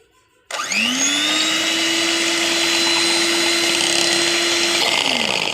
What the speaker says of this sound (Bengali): এই বিট করা মেশিনটা দিয়ে আমি ডিমটাকে ফাটিয়ে নেব